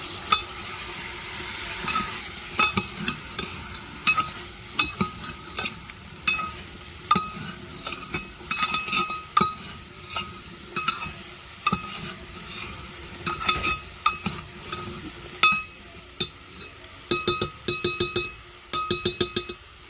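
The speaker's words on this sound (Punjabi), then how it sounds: "ਆਪਾਂ ਮਿਕਸ ਕਰਕੇ ਹੁਣ ਇਹਨੂੰ 1 ਮਿੰਟ ਇਦਾਂ ਸੇਕ ਲਵਾਵਾਂਗੇ" Potatoes and eggplant are stirred into a sizzling tempering of fried garlic, onion, tomato and green chili, with a spoon repeatedly clanking and scraping against the pan in an uneven rhythm over a steady frying hiss.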